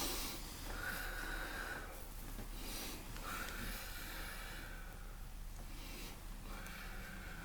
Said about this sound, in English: Now, 3 breaths in.